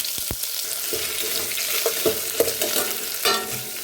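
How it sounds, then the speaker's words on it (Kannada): Long sliced onions hit hot oil in a tempering of dried chillies, sizzling steadily in a pan for a raw mango dal, with soft stirring scrapes and a few clinks, close and alone. "ಇವಾಗ ಉದ್ದುದ್ದ ಹೆಚ್ಚಿರೋ ಈರುಳ್ಳಿ ಹಾಕ್ತಾ ಇದ್ದೀನಿ"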